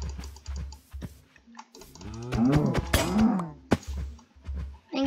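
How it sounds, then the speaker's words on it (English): A cow in a Minecraft-style block game lets out a loud, drawn-out moo with rising and falling pitch in the middle, framed by shorter game clicks and thuds before and after. "I hate this cow."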